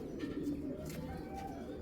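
A pair of Kajbhanga pigeons coos softly and steadily in a low, continuous murmur, with faint higher chirps over it and no clear talk.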